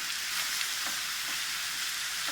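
Herbs frying in hot oil for a pissaladière, a bright continuous hissing sizzle, close and even throughout with no voices.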